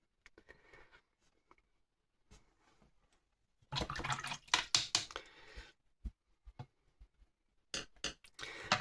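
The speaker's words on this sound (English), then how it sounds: "I've rinsed that brush off" A watercolour brush is rinsed in a water jar, giving clustered splashy clinks and swishes in bursts with quiet gaps between, close and moderately loud.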